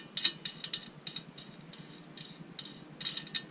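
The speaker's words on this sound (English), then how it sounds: "I'm gonna take that nut off." A ratchet wrench loosens a nut on a 70cc Puch Maxi moped engine, giving close, faint, irregular clicking and ticking in short bursts with no talk.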